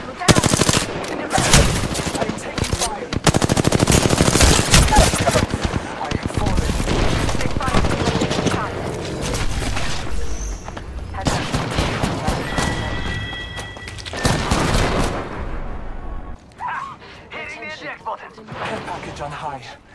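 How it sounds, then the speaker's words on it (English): Rapid automatic gunfire and single shots fill a first-person shooter video game, loud bursts and a few booms spread across the stretch, with a player talking over the action. "I am taking fire."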